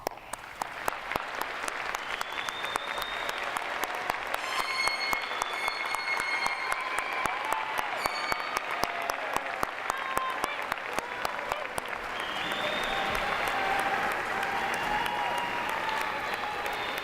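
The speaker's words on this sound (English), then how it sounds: "Let's give them some applause." A winter commencement crowd for business and liberal arts graduates claps in a long, sustained wave of applause, an even, crackling patter of many hands that stays steady throughout, with occasional voices underneath.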